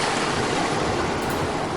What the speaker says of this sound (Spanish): vas a dejar que los sonidos del mar comiencen a regir el ritmo natural de tu cuerpo